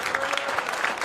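Audience applause and cheering in a comedy club, a steady dense clatter of clapping at moderate level, without speech.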